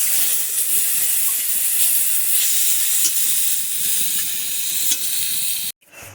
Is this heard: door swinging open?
no